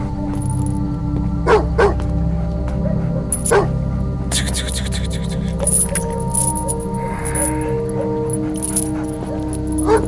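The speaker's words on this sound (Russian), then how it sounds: "Собака у вас злая." A dog barks in short, sharp bursts at a visitor outside a house, loud and close, mixed with whimpers, jangling and a background music score, while people talk over it.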